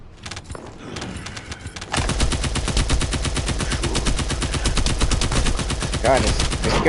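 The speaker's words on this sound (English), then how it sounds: "God, this gun is so powerful, but it has so much goddamn kick." Rapid automatic gunfire from a powerful, hard-kicking gun in the video game The First Descendant, loud and continuous after a quieter opening, with a voice talking over it.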